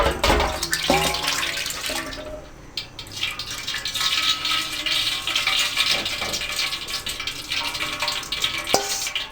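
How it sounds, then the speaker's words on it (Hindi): Four cups of cooking oil pour into an open cooking pot, heard as a continuous close liquid stream with a clunk at the start and small knocks along the way, with no speech. "तो मैं ये 4 कप ऑयल डाल रही हूँ।"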